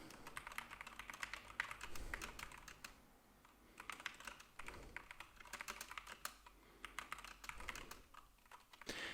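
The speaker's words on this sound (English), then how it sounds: "let's hear how the mechanical keyboard sounds" Rapid clicking keystrokes of a SteelSeries Apex Pro mechanical gaming keyboard, typed in quick bursts with short pauses, close and fairly quiet.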